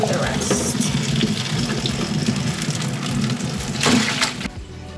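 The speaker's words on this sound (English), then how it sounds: "Let's go ahead and drain this out." Pasta cooking water pours from a pot into a kitchen sink in a steady, loud gushing splash that runs for several seconds, then tapers off near the end; some talk may sit faintly beneath the flow.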